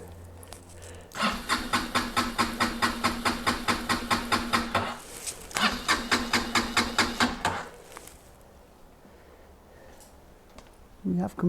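A refreshed Honda XR125 motorcycle engine cranks over in two long runs of rhythmic compression pulses, loud and close, with a short pause between; it then falls quiet, followed by a brief clunk at the end.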